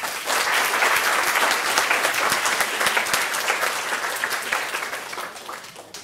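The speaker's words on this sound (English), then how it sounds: "Another round of applause for Dr. Ekstrom." Sustained applause from a conference audience after a talk, dense and close, steady for several seconds before gradually thinning and fading toward the end.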